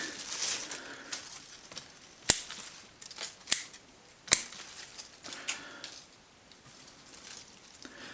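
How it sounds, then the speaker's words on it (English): Pruning scissors snip twigs from a European hornbeam bonsai during spring pruning, three sharp, close cuts standing out from soft rustling of branches and handling noise. "Cut some of these twigs out of the way."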